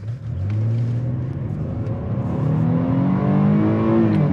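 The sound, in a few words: 2022 Chevy Blazer RS accelerating hard in all-wheel drive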